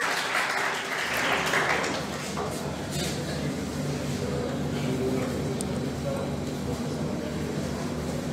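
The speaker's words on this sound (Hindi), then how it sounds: "जोरदार तालियां बजाइए इनके लिए, ऋचा गुप्ता को।" Audience applause for NEET topper Richa Gupta at a coaching-institute celebration honouring NEET-2020 toppers, a steady crowd clapping sustained over low hall rumble, with voices murmuring underneath.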